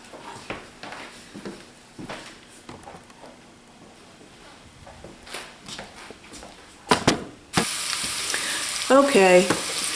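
Chopped garlic frying in olive oil in a skillet, a low crackling sizzle that swells loudly in the final seconds with stirring clatter.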